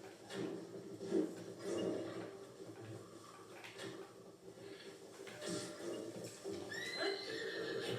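A horse neighs and whinnies in Zelda: Tears of the Kingdom, with several quiet, breathy whinnies spread across the stretch and a short high squeal near the end over faint game ambience.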